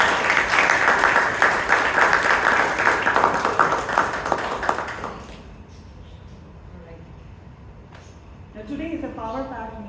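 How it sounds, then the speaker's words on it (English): A Toastmasters club audience in Bangalore applauds at a term-end meeting. The clapping is lively and close for about five seconds, then fades to quiet, and a voice begins speaking near the end. "can we have a big round of applause for him?"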